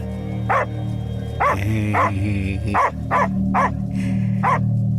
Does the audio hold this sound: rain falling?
no